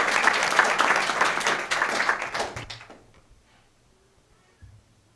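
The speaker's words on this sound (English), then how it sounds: "Let's give them another round of applause." An audience at a school district board meeting applauds in a dense burst of clapping that fades out after about three seconds, leaving near silence and a faint knock.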